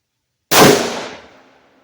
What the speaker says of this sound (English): Let's just take a shot with both eyes open and see what I get.